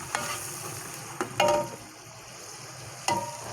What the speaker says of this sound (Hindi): वो कटे हुए टमाटर शामिल कर रही हूँ।